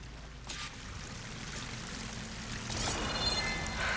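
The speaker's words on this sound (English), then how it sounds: "That waterfall must be coming from somewhere." Steady rushing waterfall in the video game Horizon Forbidden West, a soft continuous pour that swells slightly louder near the end, with no talk over it.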